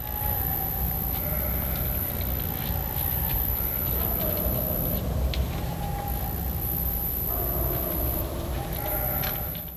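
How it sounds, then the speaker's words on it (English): Sheep bleat in the mountains of Idaho, calls echoing over a constant loud wind or engine rumble with a high steady tone above, several drawn-out bleats overlapping throughout. "They're sheep."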